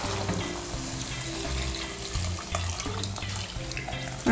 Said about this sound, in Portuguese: Aí eu vou colocar água até cobrir o feijão.